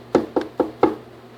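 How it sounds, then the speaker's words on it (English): Four quick, even knocks on a door, close and solid, followed by quiet. "he heard a knock on the door."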